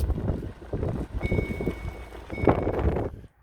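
A truck backs slowly toward an enclosed trailer, its steady reversing beeps sounding over engine rumble and some wind noise, with a second tone briefly joining in near the end.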